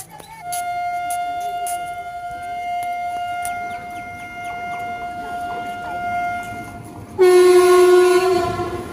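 A train rolls steadily along the rails with clicking wheels and a sustained tonal whine, then a loud horn blasts near the end.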